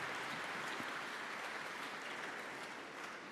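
An audience at a keynote address by President Cyril Ramaphosa breaks into sustained applause, a dense, even wash of clapping that fills the hall for several seconds with no talking.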